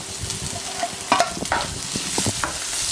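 A chili and onion mixture stirred in a hot frying pan: a steady, loud sizzle of frying with scraping and clacking strokes of the spoon against the pan, and no voices.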